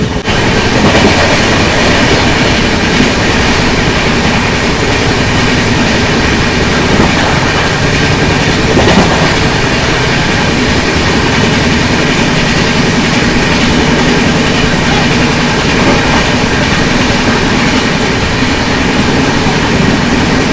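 A sleeper class train on the Goa to Bangalore route runs along the rails, a loud, continuous rumbling roar with faint clattering of wheels throughout, heard from inside the carriage.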